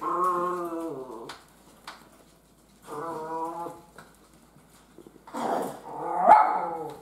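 Miniature Schnauzer puppies yapping and barking in short bursts with pauses between, close by, mixed with a little growling.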